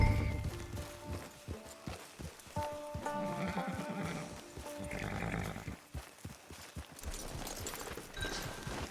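A horse in the Red Dead Online video game whinnies and snorts while its hooves clop irregularly nearby. Several distinct steps sound against a busy background.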